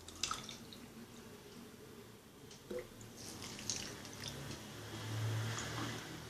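Water is poured onto jaggery in a kitchen for wheat flour halwa, giving a faint, soft trickling and dripping with light splashes, quiet and alone.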